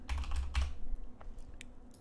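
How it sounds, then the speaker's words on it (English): A wrong password is typed on a computer keyboard, heard as a quick run of soft, close key taps followed by a few scattered clicks over a low background hum. "And now I'll just type in the wrong password."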